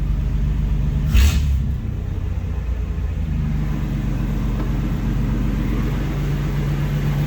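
A Chevrolet S10 pickup truck engine, once neglected and now running again, gives a brief rev before settling into a loud, steady low rumbling idle, close by, with no talk.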